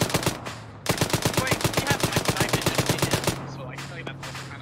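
Automatic gunfire in a military video game battle, a loud, fast, evenly spaced string of shots lasting a few seconds, with quieter shooting and ambient noise before and after.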